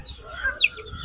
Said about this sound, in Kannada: ನೋಡಿ, ಇದು ಹುಂಜ.